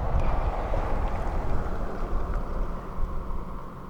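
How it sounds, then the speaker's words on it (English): A Mercury outboard boat motor runs steadily near the water at Boca Chica, a continuous low rumble mixed with wind noise, fairly loud and alone without talk. "his motor running, his engine, his Mercury"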